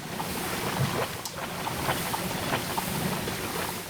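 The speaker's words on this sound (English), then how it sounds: "This is what happens if you try to roll in the swamp." In Demon's Souls, a character rolls through the murky swamp water of the Valley of Defilement. The water sloshes and splashes in a steady, churning wash with a few sharper splashes scattered through it, close and fairly loud, and no one speaks.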